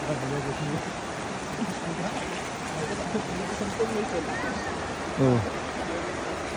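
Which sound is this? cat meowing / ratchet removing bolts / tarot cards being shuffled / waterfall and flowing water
waterfall and flowing water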